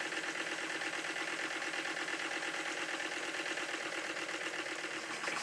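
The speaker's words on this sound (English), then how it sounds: "even when the engines are running fast, they're only being supplied with about 30 pounds per square inch of compressed air." A Stuart model steam engine runs fast on compressed air at about 30 psi, giving a steady, dense mechanical chuffing and whirring that stays even and close throughout, with no talk.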